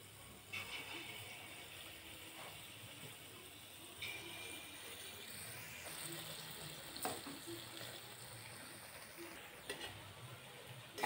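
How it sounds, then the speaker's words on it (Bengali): Taler bora, palm fritters, drop one by one into hot white oil in a kadai on a gas stove, making a soft, steady sizzle with occasional faint pops and spatters throughout. "তেলটা গরম হয়ে গেছে। এইবার আমি একে একে বড়াগুলো ছেড়ে দেবো।"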